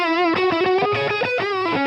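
An electric guitar on its neck pickup through a Marshall Plexi amp model, with greenback 25-watt Celestion speakers miked by an SM57, plays a quick, loud, distorted phrase of picked notes and chords.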